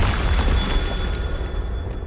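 Confringo fire-blast spell going off in Hogwarts Legacy, a dense sustained rumbling boom that stays loud and steady across the whole stretch with no voices.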